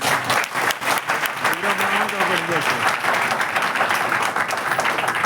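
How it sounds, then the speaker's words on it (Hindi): Audience at a fighters' network-marketing gathering gives a guest sustained, loud applause, dense clapping filling the whole stretch with a brief voice rising over it midway. "मैं सभी फाइटर्स से अनुरोध करूंगा कि हमारे गेस्ट के लिए जोरदार ताली हो"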